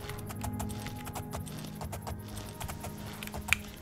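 Horse hooves clip-clop in the Elder Scrolls: Oblivion video game, a quiet, rapid run of sharp taps in an irregular trotting rhythm with a faint background hum.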